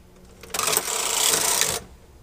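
A knitting machine carriage is pushed across one row of nine cast-on stitches, a steady mechanical whirring and clattering swell lasting about a second, loud and close, with no talk over it.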